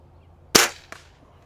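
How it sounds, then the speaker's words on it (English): A single sharp crack of a budget springer air rifle firing at a target 50 yards off, followed by a fainter short knock about a third of a second later, with quiet outdoor background otherwise. "we're going to shoot one more time at that bottom target"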